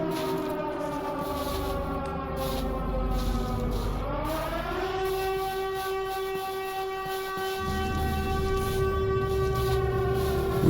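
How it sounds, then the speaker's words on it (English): Siren Head's eerie wailing siren in Minecraft, a long droning horn-like tone that bends and rises midway and then holds steady over a low rumble, loud and sustained. "strange siren sounds interrupted us"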